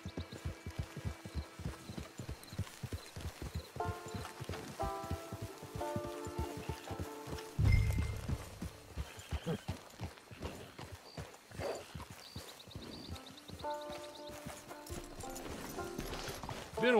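Horse hooves clip-clop steadily at a trot in the Red Dead Online video game, a close rhythmic patter running throughout, with a brief louder thump midway and occasional musical tones layered over the footfalls.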